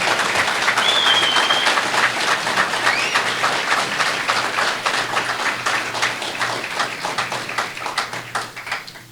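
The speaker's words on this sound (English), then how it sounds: "Round of applause, please." An audience at a basketball coach's introductory press conference at Fresno State applauds with sustained, dense clapping that starts strong and gradually thins and fades out.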